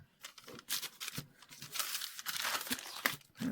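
Washi tape being pulled, crinkled and pressed over a rip in a scrappy fabric journal, a close, soft run of rustling and tearing crackles with no talk.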